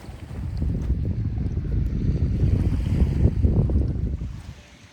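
Waves break on a lakeshore beach in Buffalo, a steady rushing wash with wind noise, swelling and then fading toward the end.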